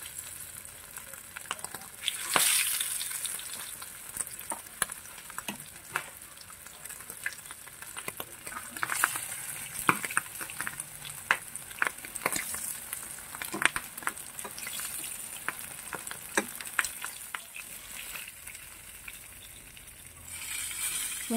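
Milkfish (bangus) frying in hot oil for sinigang sa miso, a close, steady sizzle and crackle with frequent sharp pops and spatters throughout, no voices.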